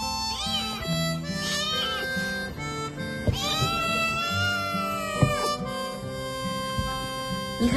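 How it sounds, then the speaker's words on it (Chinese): A kitten found hidden inside a car meows repeatedly, giving a run of high, wavering cries up close, some drawn out and some short, with a soft low background hum. "小猫咪的咩咩音也太可爱了"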